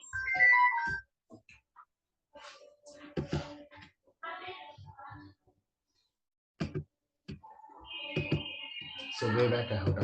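A phone ringtone chimes in short melodic bursts at the start and again near the end, with people talking and scattered handling clicks in between.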